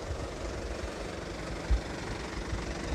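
The diesel engine of a used Isuzu Elf minibus idles with a steady low rumble and faint rhythmic knocking, constant throughout with no voices.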